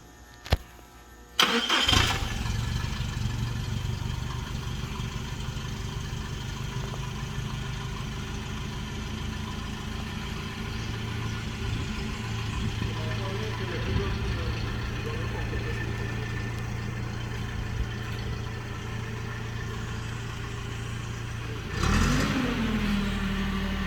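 Non-electric forklift engine starting with a sharp crank at about two seconds, then settling into a steady, fairly loud idle with mild revving, and a second rev-up near the end; faint talk sits under the engine.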